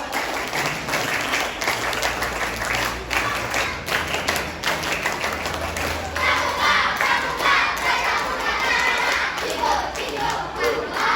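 Children at a TPQ Quran school Scout practice do a rhythmic Pramuka clap and chant together, a loud crowd of young voices shouting with sharp claps throughout, growing louder and fuller halfway through.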